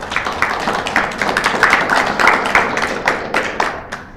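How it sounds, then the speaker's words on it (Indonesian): Students clap together in a pesantren classroom during a kitab reading lesson, a dense run of sharp, uneven handclaps lasting several seconds at close range, with no talk over it. "Kasih tepuk tangan."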